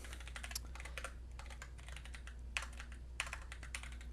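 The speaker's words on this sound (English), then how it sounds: "And then I would just start typing names." Typing on a computer keyboard in quiet, close clusters of soft keystrokes separated by short pauses, with a couple of sharper key hits standing out.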